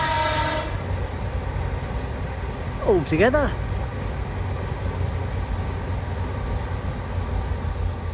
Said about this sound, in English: and a train coming